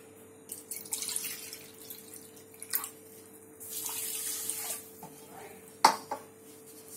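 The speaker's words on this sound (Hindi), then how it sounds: "जितनी आप शक्कर ले रहे हैं उसका आधा पानी डालें।" Water is poured into a kadai of sugar on a gas stove to make syrup, coming in a few short splashing gushes separated by quiet gaps, with a sharp metallic clink near the end.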